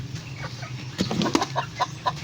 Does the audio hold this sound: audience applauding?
no